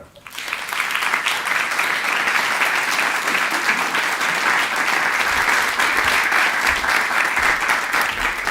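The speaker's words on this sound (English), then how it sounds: "Just one more big applause." Loud, sustained applause from a conference audience after a talk on transition and sustainability, a dense steady wash of many hands clapping for several seconds without pause, rising quickly at the start.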